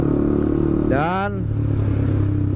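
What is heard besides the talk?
loud motorcycle exhaust revving without DB Killer silencer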